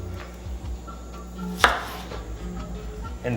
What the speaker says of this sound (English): And then we're gonna thinly slice it.